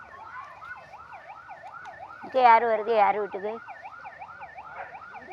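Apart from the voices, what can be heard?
ambulance siren passing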